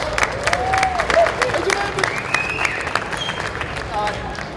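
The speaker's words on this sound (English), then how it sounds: "Give yourself a round of applause." A conference audience at a video game convention claps and cheers in a sustained round of applause, with voices mixed into the crowd noise.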